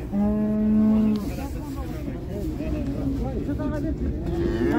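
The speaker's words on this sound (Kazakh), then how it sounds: "Міне бұзау жатыр." A calf at a cattle market gives a long, loud moo close by, followed by fainter bleating calls and other cattle sounds amid background market noise.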